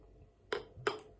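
Wheat craft beer from a freshly opened bottle poured into a glass, heard as two short, close bursts of splashing liquid with a brief pause between them and nothing else around them.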